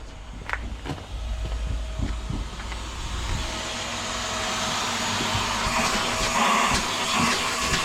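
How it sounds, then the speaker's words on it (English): A vacuum cleaner runs from a motorhome's power supply, giving a steady broadband whoosh and hiss that holds for the whole stretch with some faint knocks early on, and no talk over it. "I hear a hoover."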